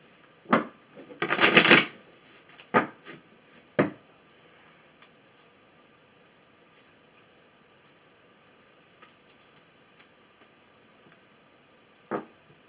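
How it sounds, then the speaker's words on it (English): A quick riffle of tarot cards being shuffled close up, with a few separate taps and snaps of cards before and after, then near silence. "So let's go ahead, shuffle one more time"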